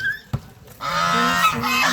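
A goose honks loudly and repeatedly nearby after a brief sharp knock, its nasal calls ringing out over quiet surroundings.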